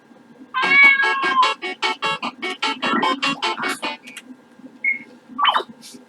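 A video game cat meows repeatedly, loud and close, in a rapid series of tonal cries with a few short game sound effects afterward.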